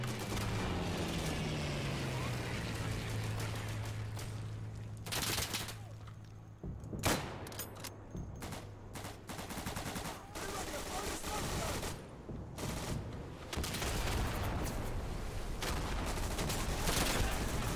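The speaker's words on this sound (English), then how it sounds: "Incoming Stuka." A Stuka dive bomber attacks in the World War II shooter game Day of Infamy, opening with a descending engine whine and then a continuous barrage of gunfire and explosions, loud and dense throughout.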